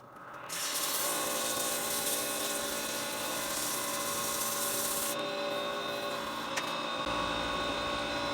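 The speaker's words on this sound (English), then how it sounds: "So now for sanding." Steady, continuous hand sanding on a wooden turned pen, a dry abrasive rubbing that runs evenly for several seconds, close and fairly loud, with no voices.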